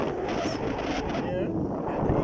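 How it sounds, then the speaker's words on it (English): Strong wind buffets the microphone at Eagle Square, a seaside square in Kuah, Langkawi, at sunset, a steady broadband roar with gusty rumble throughout, with faint background activity near a jetty. "It's very windy over here."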